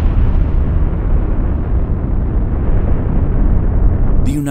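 A thermonuclear weapon test explosion rolls out as a loud, continuous deep rumble and roar that holds steady for several seconds before cutting off sharply, with no voices.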